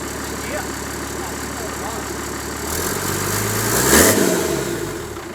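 Toyota HJ75 Troopy engine idling steadily after its turbo is refitted, rising into a brief rev that swells and fades near the end.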